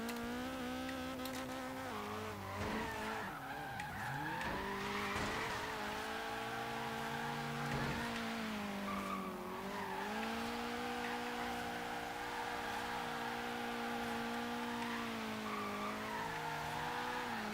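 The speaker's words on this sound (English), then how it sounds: "Can we drift it like we stole it?" Nissan 240SX drifting in second gear with no traction control in Forza Horizon 3, engine whining and wavering in pitch while tires screech steadily under it, close and continuous.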